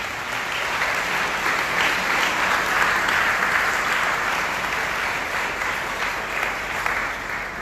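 Sustained, dense applause from a congregation during a Sunday worship service in a French-speaking church, a steady roar of many hands clapping together for several seconds without pause.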